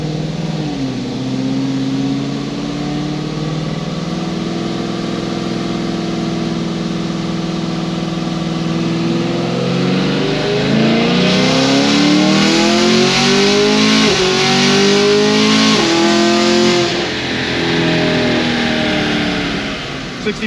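A heads-and-cam LT1 Camaro engine revs hard and loud through several automatic upshifts, its pitch climbing and dropping at each gear change, with a sustained roaring note throughout.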